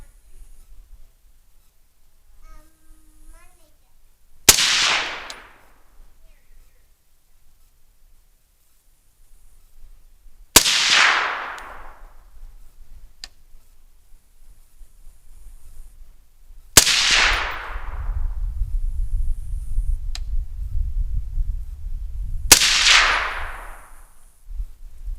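Four sharp, loud rifle shots ring out several seconds apart, .308 and 6.5 Creedmoor rounds fired toward targets at 300 yards, each crack followed by a short decaying echo, with low wind rumble toward the end.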